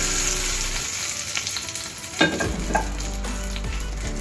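Hot tempering with turmeric and curry leaves sizzles as it is stirred into a radish yogurt chutney, with a steady frying hiss and a few clinks of a spoon against the pan.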